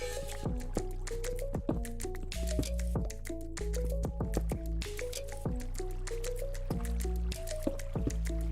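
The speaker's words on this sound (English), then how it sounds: "I'm hearing water, so that means we're going to be coming into some form of a cave system here at some point." Running, dripping water echoes in a Minecraft cave, a steady wet trickle with repeated drips and splashes, close and continuous with no talk.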